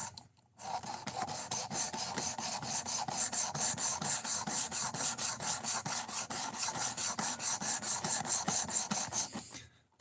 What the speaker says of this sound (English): it makes it easy to sharpen a knife without a ton of skill